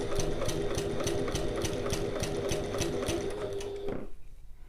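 A sewing machine runs basting stitches on a passport folio, a steady close mechanical chatter with a regular needle rhythm that continues for about four seconds and then stops abruptly.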